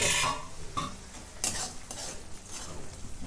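Tomato paste for cashew masala sautés in a pan, soft sizzling under several scraping stirs of a spoon, close and fairly quiet, with no talk.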